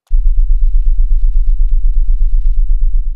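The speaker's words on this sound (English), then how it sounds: "So I hear the scratching that I want, but I hear this thrumming bass in there as well" A vintage vinyl turntable effect built in GarageBand, dominated by a loud, steady, thrumming synth bass that pulses low and constant, with faint scratchy crackle flickering above it.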